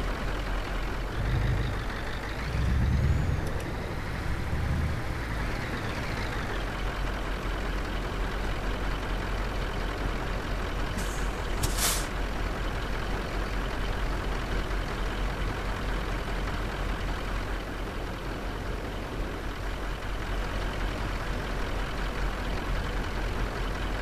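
Simulated heavy truck driving in Euro Truck Simulator 2, heading to Scania with a trailer: a steady, loud engine drone and road rumble continue unbroken, with a short hiss near the middle, and no one speaks.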